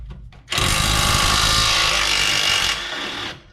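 Impact gun loosening a bolt on a BMW E28 rear axle: a brief close whir, then a loud sustained hammering rattle for about two seconds that drops in pitch before stopping.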